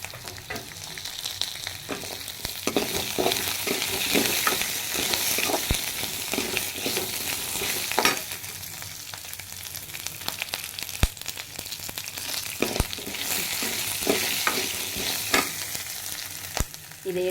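Coriander being sautéed with tamarind and green chili in a pan for kothamalli chutney, making a steady close sizzle with frequent scraping and clattering stirs throughout, and no talk.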